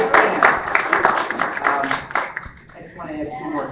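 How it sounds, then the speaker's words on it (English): Applause and clapping from an audience at a public meeting, a dense broadband patter that is strongest at the start and then thins and fades. Voices are mixed in underneath. "So how about a round of applause?"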